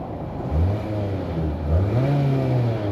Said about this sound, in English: let's go ahead and see if we can hear this Nissan Altima SR engine